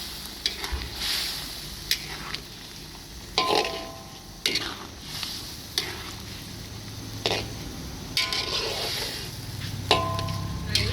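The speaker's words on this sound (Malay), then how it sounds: "Gau dulu." Spicy chicken liver and gizzard being stir-fried with chopped tomato in a pan, with steady sizzling broken by repeated scraping stir strokes at irregular intervals, close and fairly loud, with no talking.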